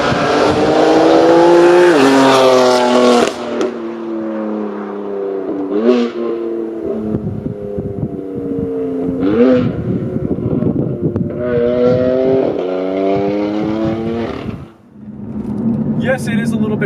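A 2019 BMW F82 M4 CS with M Performance parts revs hard and loud, rising and falling in pitch through several pulls, with a raspy exhaust and wind buffeting the microphone.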